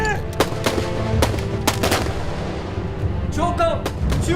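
Sharp rifle and gun reports from a naval battle war film about the Yellow Sea battle and the Beiyang fleet, several loud cracks spaced irregularly over a dense rumbling battle background, with shouting voices heard in the mix.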